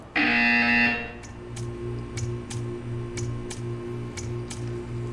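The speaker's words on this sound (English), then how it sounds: "You will hear a buzzer" A loud, harsh buzzer from the video game Portal 2 blares for about a second, followed by a steady mechanical ticking over a low hum.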